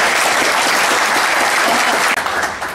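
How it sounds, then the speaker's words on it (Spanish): An audience at an organization's assembly breaks into loud, dense applause, sustained clapping from many hands that tapers slightly at the end, with no talk over it. "Quiero pedir un aplauso para la líder de esta gran organización"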